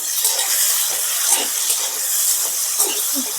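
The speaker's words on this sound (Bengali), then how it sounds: "এবার আমি ভালো করে আলুটা ভেজে নেব" Potatoes frying in a pan with a little salt and turmeric: a steady, fairly loud sizzling hiss with small crackles and stirring sounds, and no voice over it.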